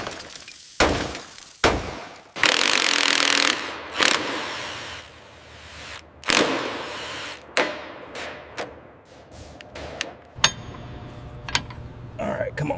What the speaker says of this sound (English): Taking the hammer to the seat frame now.